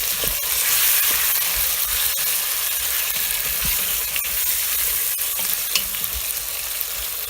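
Zucchini fries in hot oil with ground chili, turmeric, coriander and cumin, a continuous close sizzle with scattered scraping stirs and clicks of a spoon against the pan, no voices.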